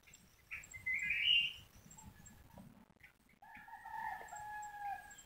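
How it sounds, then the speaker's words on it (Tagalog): A rooster crows from far off across a rural hillside, one drawn-out call followed by another after a pause, with faint clucks and small bird chirps around it in a quiet outdoor setting. "may naniniraok po mga ka-environment"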